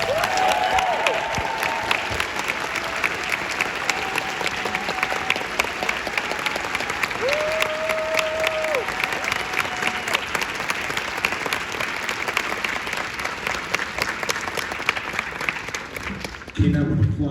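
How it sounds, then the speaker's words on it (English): Sustained enthusiastic audience applause at a live film Q&A for Killers of the Flower Moon, dense and steady for the full length, with faint voices and a whistle-like tone mixed in. "I want every enthusiastic applause for each individual that's about to come out"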